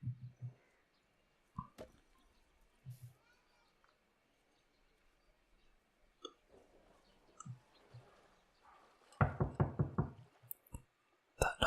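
Building-construction knocks from the Kingdoms and Castles video game, a cottage going up: a quiet run of separate hollow taps, like someone at a front door, with a louder cluster near the end and soft speech around it.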